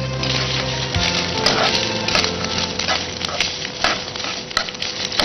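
Fully boiled rice stirred in hot oil in a pan makes a close, busy crackle and sizzle broken by irregular scraping and stirring knocks, with no speech over it.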